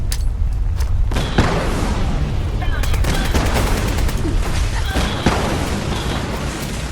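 Grenade explosions and gunfire in the Fallout 4 video game, dense rapid bursts of shots and booming blasts packed together, loud and close, with a brief lull early on.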